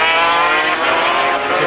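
Racing motorcycle at the 24 Hours of Le Mans, a loud high-revving engine whine that holds close and then shifts pitch as it passes, with a commentator talking over it.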